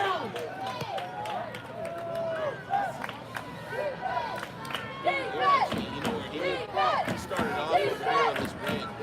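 High school football crowd cheering and shouting for a big fourth-down defensive play by the Lions, a steady rumble of noise under a commentator's voice.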